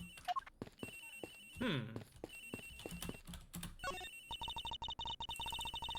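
A cell phone ringtone plays in the Ace Attorney Investigations video game, a looping electronic lullaby-like melody that grows steadier and more insistent toward the end, with sounds of people talking mixed in earlier.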